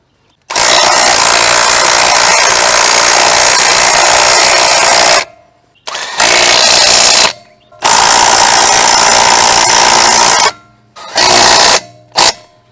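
A UYUSTOOLS ILL202 brushless impact wrench tightens car wheel lug nuts in four loud bursts. The first is a long hammering run, followed by three shorter ones, each separated by brief pauses.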